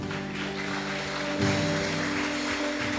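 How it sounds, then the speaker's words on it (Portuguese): Congregation clapping in a church, a dense steady patter of many hands held at an even level for several seconds, with tonal hum and music-like tones running underneath. "Uma salva de palmas ao Senhor."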